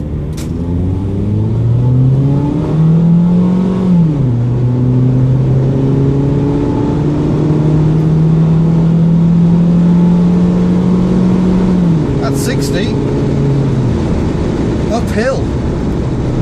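A Honda S-MX with a big engine and automatic gearbox drives steadily, its engine note climbing as it accelerates, dipping at a gear change and then holding a smooth, even hum, with a few faint high clicks near the end.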